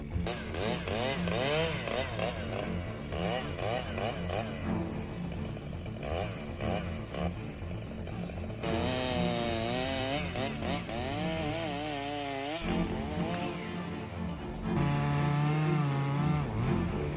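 Heavy-duty chainsaw cutting through a tree, its engine buzzing loudly and continuously with pitch rising and dropping as it bites into the wood, heard alone and fairly close.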